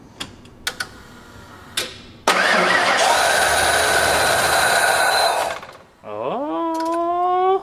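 A 1989 Ford F-150 with fuel injection cranks in a few short bursts, then churns loudly for several seconds before cutting off; after a pause the engine catches and settles into a rising, steady idle.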